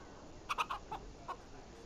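Chickens in a dirty, dangerous-looking alley in Dragon Age Origins let out a handful of quiet, short clucks in a quick irregular cluster, then one more cluck after a pause.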